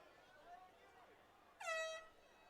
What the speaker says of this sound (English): as a air horn was just sounded